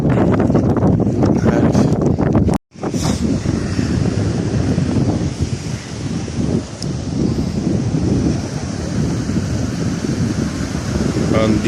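Mediterranean sea waves wash ashore at Baltim beach in Egypt, a broad steady rush mixed with strong wind noise on the microphone, briefly cutting out near the start, with people talking faintly nearby.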